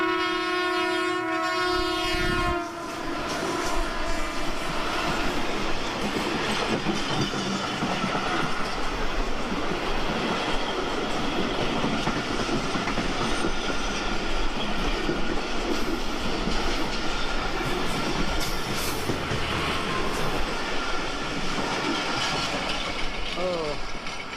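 On the Pakistan Express line between Islamabad and Lahore, a passing train opens with a brief horn blast, then a loud, steady rumble and rail clatter as the cars roll by for a long stretch.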